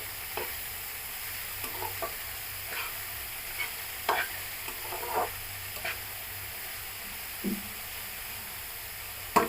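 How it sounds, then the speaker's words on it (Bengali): Chopped banana flower being stirred into hot oil crackles and sizzles, with scattered scraping spoon strokes at irregular intervals over a steady close frying hiss. "এবার আগে তেলের সঙ্গে ভালো করে মিশিয়ে দিতে হবে"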